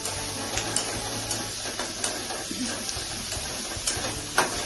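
Tomatoes added to a hot pan for a Bengali lemon rou fish curry, giving a steady close sizzle and hiss with occasional stirring scrapes and small clinks throughout.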